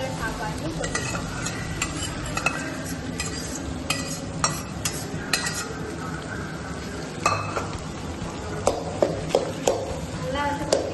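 Rice and scrambled egg being stirred in a pan, with steady scraping and tossing over a soft sizzle, sharper utensil knocks toward the end, and a voice talking throughout.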